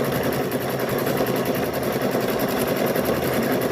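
A sewing machine stitching quilt squares runs in one continuous, even mechanical whir with a fast buzzing rhythm, close and steady, with no talk.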